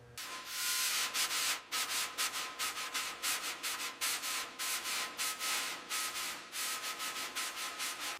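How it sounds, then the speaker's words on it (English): Surface rust is sanded off the metal hood of a 1926 Mack Model AB truck with rapid, rhythmic scraping strokes, close and loud. A short pause sits near the start, and no one speaks. "let's get this surface rust off"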